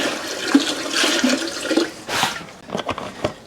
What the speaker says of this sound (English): we'll start by adding some water. Up to 2 inches.